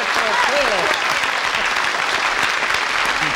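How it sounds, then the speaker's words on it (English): Studio audience applause on the 1972 game show I've Got a Secret: a dense, steady burst of clapping that fills the whole stretch at close range and strong volume. "One thing I've never understood about the show is why people applaud for things like that."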